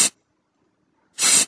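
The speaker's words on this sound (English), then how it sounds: "You see that spraying sound." Two short bursts of hissing aerosol spray paint, the sound effect in the 3DTuning car modding app, one at the start and one near the end, separated by silence.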